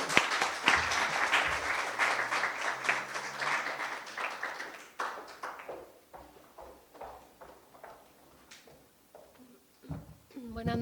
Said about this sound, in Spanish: Recibamos con un fuerte aplauso a la maestra Marta Tawil Curi